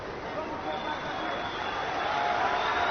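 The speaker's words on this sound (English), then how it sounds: "Appreciative crowd for these two warriors as we hit the final minute of the fight." Spectators at a UFC 242 mixed martial arts event applaud in the final minute of a fight, a broad steady roar of arena crowd noise that swells slightly toward the end.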